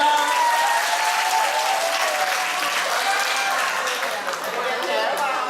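Loud, sustained applause from an audience, dense clapping that holds steady for several seconds.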